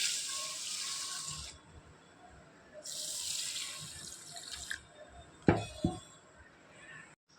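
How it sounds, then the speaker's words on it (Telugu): Moong dal and rice are washed under a running tap, with water gushing in two long bursts, then splashing and sloshing as the grains are rinsed, plus a couple of clinks from the vessel nearby. "ఇప్పుడు వీటిని శుభ్రంగా కడుక్కోవాలి."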